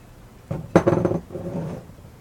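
Sugar poured gradually into a pot of grape jelly with butter, stirred in with clinks and scrapes of a utensil against the pot, a short cluster of close, moderate sounds.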